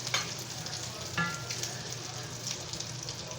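Food fries in grease with a close, steady sizzle and crackle, broken by a few sharper pops and stirring sounds across about three seconds.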